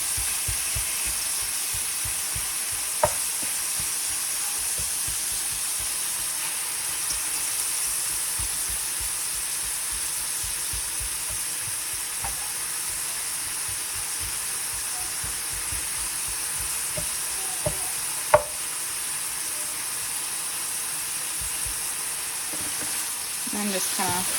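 Steak meat fries in hot oil in a pan with a steady, even sizzle and hiss, broken by a few small pops and stirring scrapes.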